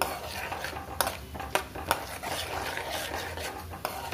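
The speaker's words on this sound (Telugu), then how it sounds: "క్యారెట్ హల్వా కోసం ఫస్ట్ ఇట్లా నెయ్యిలో పలుకులు కొంచెం వేయించుకోవాలి." Cashews, almonds, pistachios and walnuts frying in ghee in a pan for carrot halwa, a faint sizzle with scraping stir strokes and several sharp spoon clinks against the pan, and no talking.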